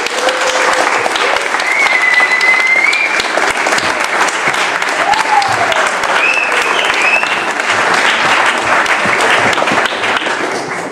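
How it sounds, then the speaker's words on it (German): Warm applause from the audience at a church youth event in Weingarten, loud continuous clapping with occasional whoops and cheers over nearly eleven seconds. "herzlichen Applaus für Gottfried Adorbe"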